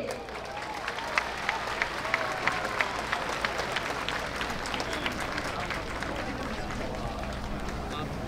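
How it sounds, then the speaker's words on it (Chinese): An audience claps steadily and fairly loudly for several seconds to welcome the UCLA marching band at a performance in Chiayi, with some crowd noise mixed in. "让我们再次掌声欢迎 UCLA。"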